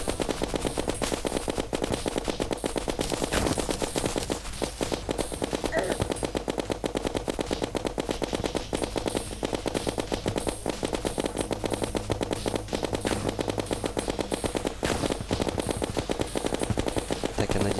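Rapid bursts of automatic gunfire in the video game Terraria crackle almost continuously, loud and dense, with a few sharper single shots mixed in over a steady low hum.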